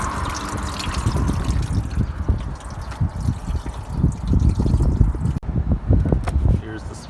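Coolant or fluid trickles and drips steadily out of a Subaru Impreza 2.5RS with an EJ251 engine during a flush. The sound is close and continuous, with a bump of handling noise partway through.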